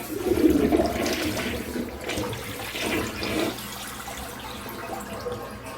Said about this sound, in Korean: 실제로 저희가 현장에서 막힌 변기를 이 관통기로 뚫는 영상을 보여드려 보도록 하겠습니다